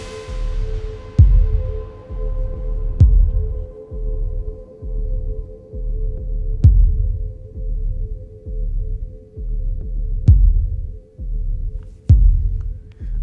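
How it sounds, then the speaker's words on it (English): A techno kick drum from a Eurorack modular setup thumps in a regular pulse over a deep, rolling rumble, with strong low booms every second or so and a faint tonal hum. "Let's just listen to the rumble and the Kickain go for a second."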